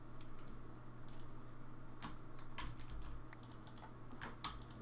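Computer keys click in quiet, irregular bursts of typing over a low, steady background hum.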